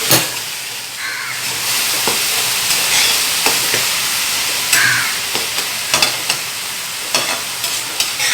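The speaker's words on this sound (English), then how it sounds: "এটার মধ্যে নুন দিয়ে ভালো করে ভেজে নিতে হবে" Paneer fries with salt in a pan, making a continuous loud sizzle broken by repeated scraping stirs and clinks of the utensil, with no talking.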